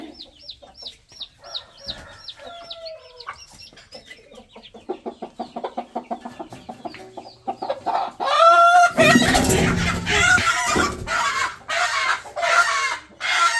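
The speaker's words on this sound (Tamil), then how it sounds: "கோழி அலறி அடித்து ஓடிச்சோ இல்லையோங்க, அது கொடுத்த சவுண்டில் நான் தாங்க அலறி ஓடினேன்." A hen, disturbed while brooding on eggs, clucks in quick repeated bursts, then erupts into loud, frantic squawking and flapping close by.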